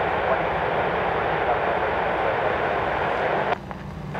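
An airplane taking off at Chicago O'Hare airport makes a steady, loud broadband roar that holds evenly and then shifts abruptly near the end.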